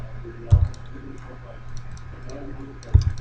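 Two sharp, isolated key presses on a computer keyboard, about two and a half seconds apart, heard close and clear over a quiet room hum while entering a drafting text command.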